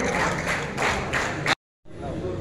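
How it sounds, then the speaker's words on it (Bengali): An audience at a district sports association event in Silchar claps loudly to honour two champion players. The dense, steady applause cuts off abruptly into a moment of silence, then resumes with murmuring voices mixed in. "একটা জোরদার হাততালি দিয়ে উৎসাহিত করুন।"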